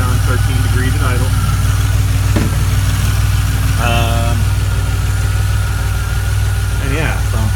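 A DeLorean engine idles steadily with a lumpy, uneven running note, a constant mechanical drone heard up close while someone talks over it in short bursts.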